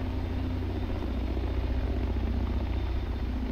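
A CH-47 Chinook helicopter in the Shergood flight simulator drones steadily with a low rotor throb and engine hum, constant and even in level with no talking.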